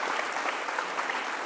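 Audience applause at an event, dense steady clapping from a crowd filling the short moment without any speech.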